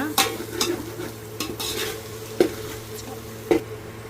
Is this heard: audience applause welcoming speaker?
no